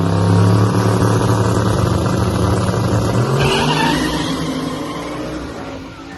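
A turbocharged LS-swapped Mustang drag races a Trailblazer on small tires, a loud close roar of engines with tire noise that slowly fades as the cars pull away.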